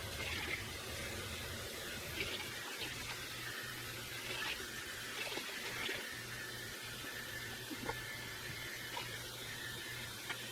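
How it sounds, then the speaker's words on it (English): Hot water runs into a bucket of homemade laundry detergent mixture, a quiet, continuous hiss and splash from a tap with a low steady hum beneath it. "the last thing I'm gonna do is just top off the bucket with hot water"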